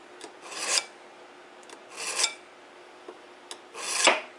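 A knife is drawn across an old-style sharpener in three separate rasping strokes. Each is a short, close, gritty scrape with a pause between strokes. There is no talk.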